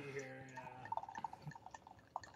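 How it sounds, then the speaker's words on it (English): Wine poured from a bottle into a glass, a faint trickling and dripping pour with small gurgles over about two seconds, low in level with a murmur of voices. "As you hear the pour, how is the aroma"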